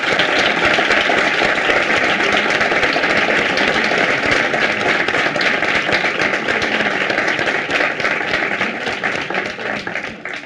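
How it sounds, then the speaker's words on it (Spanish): A Students for Liberty event audience applauds its organisers with a dense, loud, steady wash of clapping that lasts about ten seconds and thins slightly at the very end, with no one talking over it. "querría pedir un aplauso a toda la organización de Students for Liberty por haber montado este evento más impresionante"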